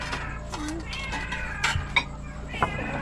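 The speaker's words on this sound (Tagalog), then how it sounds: "Ingay naman ng pusa." A cat meows a few times, short mewing calls rising over a noisy outdoor background alongside a small outdoor cooking scene, fairly close and moderately loud.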